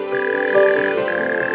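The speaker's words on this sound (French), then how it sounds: "comme le crapaud calamite" Natterjack toads calling at a quarry wetland habitat, a continuous dense churring trill that holds steady and loud throughout, with overlapping calls and no voices.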